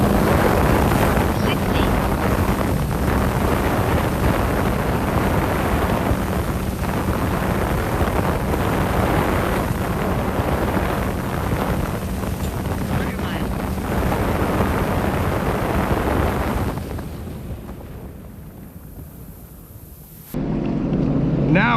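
A Sea-Doo RXP-X 325 jet ski roars steadily on open water during a quarter-mile acceleration run, heavy wind buffeting the microphone and spray hissing before the engine note drops away near the end.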